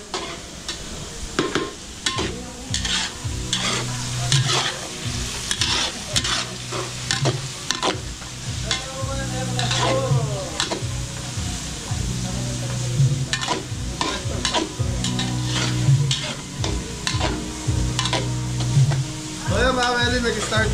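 Garlic, onion and ginger sizzle steadily in a pan while a utensil scrapes and stirs them in regular strokes about every few seconds, close by and continuous.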